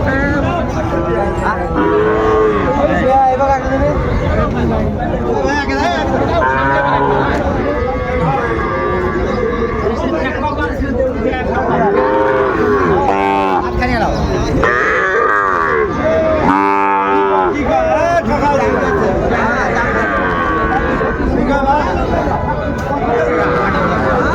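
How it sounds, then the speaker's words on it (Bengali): Sahiwal bull calves moo loudly and repeatedly nearby, long drawn-out calls over a constant babble of people talking and background crowd noise at a cattle market. "এই যে সুন্দর দুটি ষাঁড় বাচ্চা দেখাশোনা চলছে"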